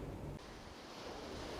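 Ocean surf rolls steadily onto the natural shoreline of Suswen beach in Abun district, Tambrau, a broad continuous wash of breaking waves with wind noise buffeting the microphone, no voices.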